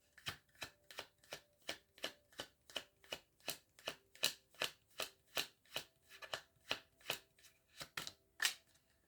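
Tarot cards being shuffled in a quick, steady run of crisp riffling bursts, about twenty strokes close up and alone with no voices.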